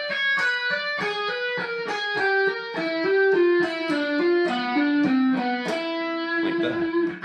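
Distorted electric guitar playing a fast half-whole diminished lick, wide-interval stretched shapes cruising downward in a steady stream of picked notes, ending on a held, ringing note, clear and loud with no talk.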